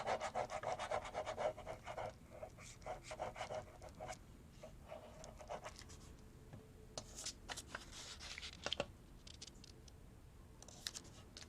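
Sheets of music paper are handled, rubbed and shuffled close by, giving soft papery rustles and brushing strokes in irregular bursts, busier at the start and scattered later.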